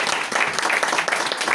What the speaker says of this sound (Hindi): प्लीज तालियां बजाएं।